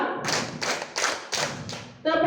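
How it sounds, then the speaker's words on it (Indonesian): A group of people clapping in a rhythmic chant, with several bursts of synchronized hand claps in a steady beat. A voice chants along with the clapping. "Tepuk tangan untuk kita semua."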